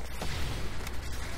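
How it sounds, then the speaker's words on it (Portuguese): Gunfire in a first-person shooter game, a dense rumbling burst of distant booms and shots that fills the short moment with continuous noise. "Opa, tô ouvindo tiros."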